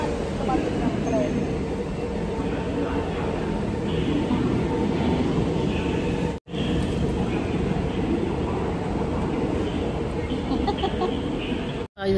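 Steady loud rumble of a train arriving in a station near Changi Airport, Singapore, a continuous rolling roar with faint mechanical clatter and some background voices.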